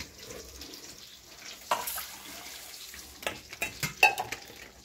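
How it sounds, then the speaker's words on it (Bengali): Rice is washed in water, with soft swishing at first and then a run of sharper splashes and clinks in the final seconds, close by. "দেখো আমি চালটা এবার ধুয়ে নেব"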